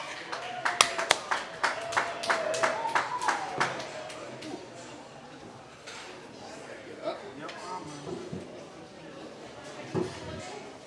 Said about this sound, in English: Everybody give a big round of applause to Coach Aaron York.